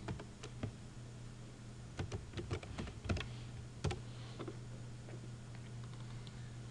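Keys clatter on a computer keyboard as a folder name is typed, a few quick bursts of keystrokes over a steady low hum, close and fairly quiet.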